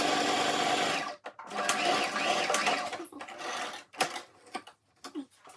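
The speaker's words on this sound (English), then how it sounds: "You back stitch, then carry on stitching." Close sewing machine stitching tulle mesh fabric for a turban, a steady whirring run that pauses briefly for a backstitch and then resumes in shorter stop-start bursts.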